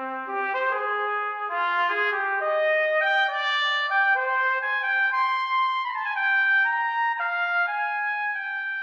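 Piccolo trumpet from the VSL Synchron brass sample library playing a smooth legato phrase, high and bright, the notes connected and gliding into one another, heard alone and close.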